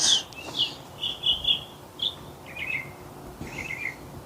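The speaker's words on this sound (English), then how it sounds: "You hear the sparrow?" A sparrow chirps repeatedly outdoors in the morning, with high, short tweets coming in small clusters, faint and somewhat distant over a low steady background hiss.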